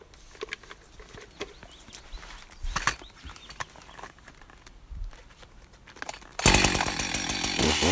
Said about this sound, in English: this method involves a chainsaw